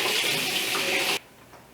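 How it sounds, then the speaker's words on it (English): Water gushing hard from a kitchen tap onto freshly peeled potatoes, a loud steady broadband rush that cuts off abruptly, leaving near silence. "I'm going to rinse off my potatoes and get them in my boiling water."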